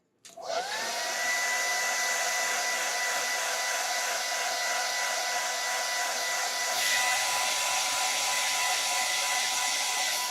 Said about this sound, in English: now it's going to be a little bit of a hair dryer moment